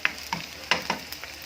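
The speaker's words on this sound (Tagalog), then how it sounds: "pwede na natin ilagay ang ating sibuyas at bawang." Onion and garlic sautéing in a pan for pork adobo, a few sharp stirring scrapes and clacks over a low sizzle, close and brief with no talk.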